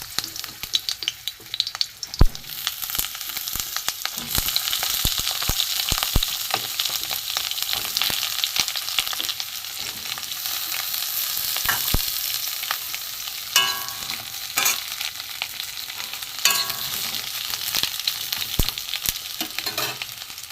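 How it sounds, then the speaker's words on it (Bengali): Potol (pointed gourd) pieces fry in hot mustard oil, a steady close sizzle running throughout with occasional stirring clicks and scrapes, no voices. "সরষের তেল দিয়ে দিয়েছি, গরম হয়ে গেছে। পটল আলু দিয়ে আমি মাছের ডিমের কারি করব। পটলগুলো আমি প্রথমে ভেজে নেব।"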